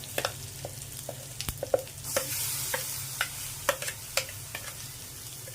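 Chutney goes into hot tempering oil with chillies and curry leaves, and a ladle stirs it in a soft hiss, with sharp clicks and taps of utensil on pan at uneven intervals.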